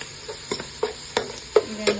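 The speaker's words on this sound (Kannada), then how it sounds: "ಈಗ ಸ್ವಲ್ಪ ಕೊತ್ತಂಬರಿ ಸೊಪ್ಪು ಮತ್ತು ಸ್ವಲ್ಪ ಪುದೀನ ಸೊಪ್ಪು ಹಾಕ್ಕೊಳ್ಳೋಣ. ಇದನ್ನು ಫ್ರೈ ಮಾಡ್ಕೊಳ್ಳೋಣ." Coriander and mint leaves fry in a pan with a faint low sizzle, broken by a handful of soft spatula scrapes spaced about every third of a second, close and quiet.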